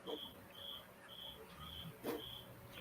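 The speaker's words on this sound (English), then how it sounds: "I also hear crickets." Crickets chirp faintly in the background, short high pulses repeating about twice a second, with a soft low hum and a brief thump underneath.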